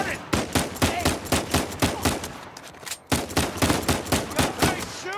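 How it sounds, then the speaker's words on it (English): Rapid, evenly spaced gunfire from Uncharted 4: A Thief's End, a long run of loud, close shots that pauses briefly before another volley resumes at the same steady rhythm. "Hey, shooting!"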